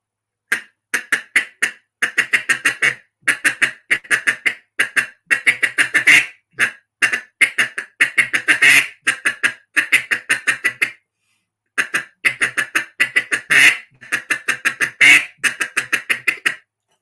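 Duck call imitating a single mallard hen, loud nasal quacks in rapid repeated strings with short pauses between sequences, close and alone without talk.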